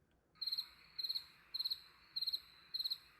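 Crickets chirp as a sound effect in five evenly spaced bursts, each a quick trill of high, clear pulses over a faint, quiet background.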